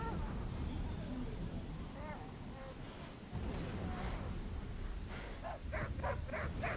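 Beagles barking in the video game Tokyo Jungle, a run of short repeated yelps near the end, heard over a dense, noisy game soundscape with a voice talking.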